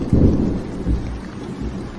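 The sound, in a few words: rain and thunderstorm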